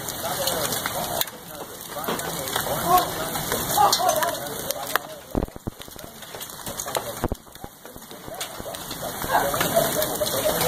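Hail rattles and patters steadily against surfaces outdoors in Indiana, a dense, crackling downpour with a few sharper impacts and brief voices mixed in.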